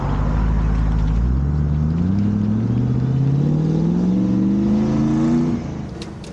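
A heavily modified Land Rover Defender pulls away from idle with a jerky start, its engine revving steadily upward in loud, continuous rising drones across several seconds before the revs drop away near the end.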